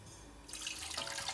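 Water runs into a pot holding raw chicken for a basic chicken broth, starting after a brief quiet moment and continuing as a steady close pour with splashing.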